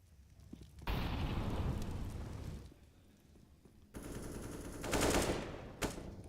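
Rapid automatic gunfire sprays through smoke in a Counter-Strike esports match, two loud sustained bursts of dense shots separated by a quieter lull, with a final sharp shot near the end and no talk.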